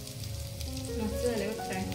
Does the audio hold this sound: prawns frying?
yes